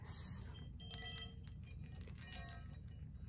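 Metal baoding balls chime softly like small bells, ringing several times in a quick, irregular run over a low, steady background hum.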